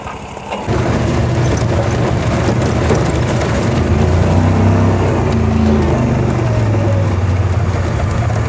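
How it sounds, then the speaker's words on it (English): A small Duzgo car with a little V12 engine drones steadily at close range off-road, a low throaty rumble with shifting pitch as it drives, continuous throughout. "Sounds absolutely amazing with that little V12 engine."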